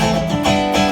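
Unmuted electric guitar strings on a Variax modeling guitar ringing freely, a dense sustained wash of overtones held for about a second before it fades slightly.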